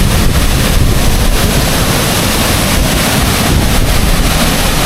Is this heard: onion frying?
no